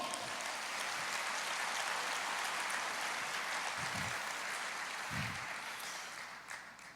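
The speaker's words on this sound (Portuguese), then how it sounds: "Você pode aplaudir o Senhor?" A church congregation applauds together in sustained clapping, a dense wash of hands that holds steady for several seconds and thins out at the end, heard from within the room, no talking.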